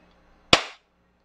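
A single sharp crack from an airsoft pistol, a gas-blowback Glock-style sidearm, fired close by in a quiet space, with a quick bright snap that fades within a fraction of a second and nothing else around it.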